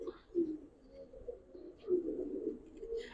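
Giribaz pigeons coo in repeated rolling bursts, two or three pronounced swells of throaty calling separated by softer murmurs, close and clear with light background noise.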